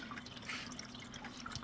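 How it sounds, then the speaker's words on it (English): Water from a pump in a Mufga 12-pod indoor hydroponic growing system trickles and drips lightly and continuously, a faint steady close-up sound with no talking. "So it sounds like a light little trickle."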